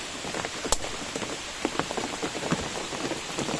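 Heavy rain falls in a mahogany forest during a storm, a dense steady patter on leaves and ground, with scattered sharper drips close by.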